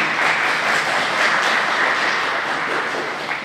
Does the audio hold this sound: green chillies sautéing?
no